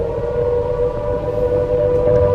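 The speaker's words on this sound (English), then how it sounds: "And there's the wail of the banshee." A wartime air raid siren wails in a steady, loud, sustained tone, heard alone without any voices.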